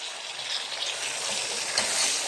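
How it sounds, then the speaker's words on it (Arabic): Chicken pieces fry in oil in a pot while being turned, giving a dense, close, continuous sizzle with small stirring scrapes and no talk. "الفراخ بتاعتنا اهي يا جماعه، يا دوبك انا بس هقلبها كده تقليبه بسيطه، انا عايزاها تاخد لون ذهبي كده"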